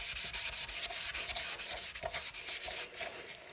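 Magic eraser with water scrubbing stains off a white granite composite sink, a steady, fast rhythmic rubbing and scouring at close range, continuous and without talk.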